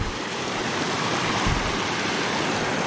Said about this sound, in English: to wash the pan a little bit